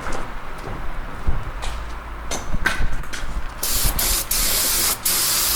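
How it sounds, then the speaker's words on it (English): Brake cleaner aerosol sprays onto freshly washed Honda CR-V parts in a garage: several short hissing bursts, then a long, loud sustained spray close to the mic, broken by one brief pause. "Anytime you wash something with a parts washer, it's always a good idea to hit it with some like brake cleaner."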